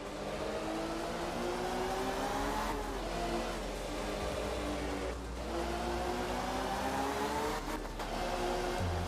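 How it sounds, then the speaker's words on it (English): Rally car engine in the racing video game Art of Rally, a steady loud revving drone that rises and drops through gear changes, with no voice over it. "this car, yeah, sounds pretty powerful already"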